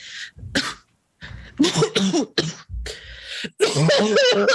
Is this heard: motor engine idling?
no